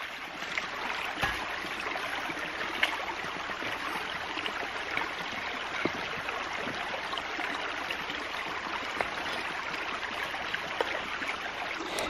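Stream water flowing over a small rock dam at a ram pump intake, a continuous close burbling rush with occasional clicks and splashes, no voices.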